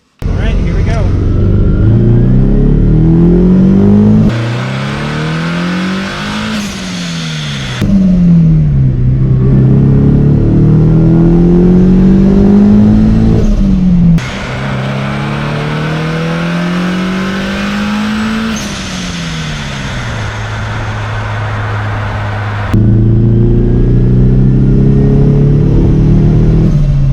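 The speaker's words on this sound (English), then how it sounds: "I'll get on it a little bit, you'll hear the blow-off valve" Turbocharged car with HKS blow-off valve inserts, engine revving through repeated acceleration runs with rising and falling pitch and breaks between gears, loud and close from inside, with a voice over the engine.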